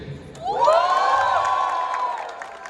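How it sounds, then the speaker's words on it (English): An audience at a student night skit event cheers and whoops together in one sustained swell lasting about two seconds, loud and fairly close, fading out at the end. "can I please hear a cheer?"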